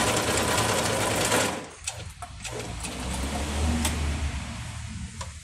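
A vintage Bobina Mágica 270 sewing machine, over fifty years old, stitches in rapid whirring runs close up, pausing briefly before starting again at a steady mechanical pace.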